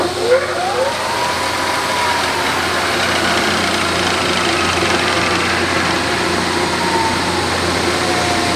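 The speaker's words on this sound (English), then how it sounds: "Can you run the spindle for me?" The spindle of a Lagun knee mill runs at a steady, close hum. A rising whine at the start settles into an even tone that holds throughout.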